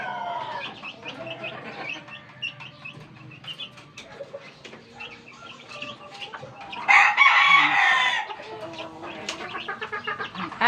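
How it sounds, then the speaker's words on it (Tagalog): Backyard chickens and young chicks kept on dampened ground: a rooster crows loudly midway while hens cluck and chicks peep steadily around it, close and busy, with a brief flutter of wings. "Ang ating chicken, mga chicks, mga sisiw."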